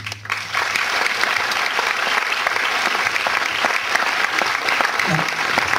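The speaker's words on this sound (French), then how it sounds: "Une nouvelle série d'applaudissements pour François Sarrado, Jacques Perra" Sustained applause from a large audience fills the space, dense and steady throughout, with no pause.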